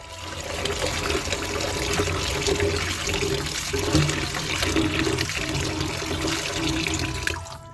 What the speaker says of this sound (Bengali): তারপরে পানি দিয়ে ভালোভাবে এটা ধুয়ে নেব।